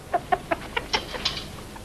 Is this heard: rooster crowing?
yes